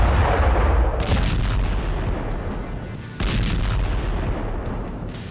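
Heavy artillery fire and explosions in a sustained barrage of dense, rumbling booms and blasts, loud and continuous, with a sharp fresh burst partway through.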